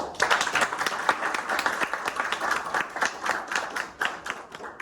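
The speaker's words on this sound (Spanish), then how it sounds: "primero un aplauso." Applause from the audience at a web developers meetup in Montevideo: a short burst of many hands clapping in a dense, steady patter that sounds close, with no voices over it.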